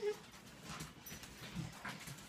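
A dog whimpers and whines indoors in short, soft, high cries spread across a couple of seconds, with faint voices in the background.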